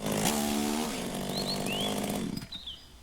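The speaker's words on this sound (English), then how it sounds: "The noisy hum of the engine died, returning silence to the mountains once more." A vehicle engine in the visual novel Rebellions: Secret Game 2nd Stage gives a loud, steady, buzzing hum that fades and cuts out near the end. A few faint high chirps sound over it.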